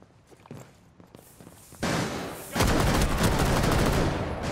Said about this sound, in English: I'm having a shootout with a breather right now.